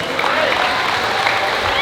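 Audience applause at an event in Mendez, Cavite, a steady broad wash of clapping filling the whole stretch at a fairly loud, even level with no pauses.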